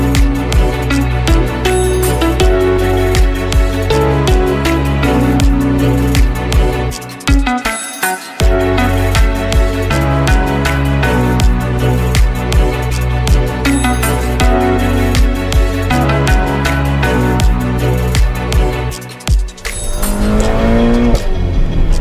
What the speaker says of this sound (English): I'm going to immerse you firsthand in what it's like to drive the all-new Ferrari Portofino